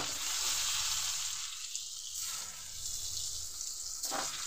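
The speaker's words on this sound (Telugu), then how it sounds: "ఎగ్స్ వేసేస్తున్నానండి" Eggs dropped into a hot pan already seasoned with a little chili powder and salt, giving a close, steady crackling sizzle that shifts slightly partway through, with no talking.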